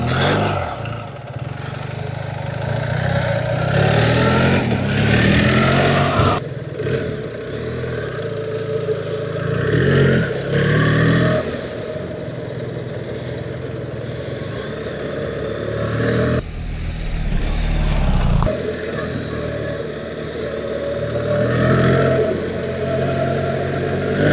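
A BMW R 1300 GSA motorcycle rides along a gravel road, its engine droning steadily throughout with wind buffeting and crunching gravel, easing off briefly and picking up again in a continuous close-up run.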